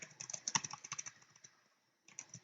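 Someone types on a computer keyboard, rapid close key clicks running in an uneven stream, then a brief pause before more typing resumes, with no voices.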